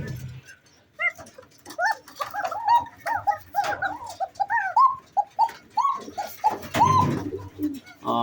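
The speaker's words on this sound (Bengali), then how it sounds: "আসলে কবুতরের ডাকের স্পিড সাউন্ডটাই আপনারা বুঝতে পারবেন যে আসলে এটা কেমন কবুতর" A red Bashiraj coca pigeon coos in a run of short, repeated rising-and-falling calls at close range, fairly quiet, with faint rustles between the notes and no talking.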